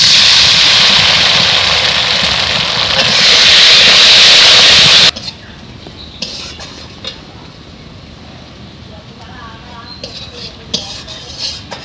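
Spice paste with turmeric frying in a pan for an egg curry, with a little water added, gives a loud, steady sizzling hiss for about five seconds, then cuts off sharply to quiet background with faint clinks.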